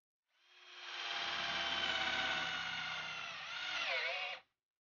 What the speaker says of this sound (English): So I had to break out a DeWalt to finish the rings around the barrels.